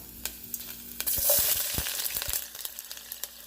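Onions drop into hot oil in a home kitchen, bringing a brief burst of sizzling followed by scattered crackles and a few soft utensil taps.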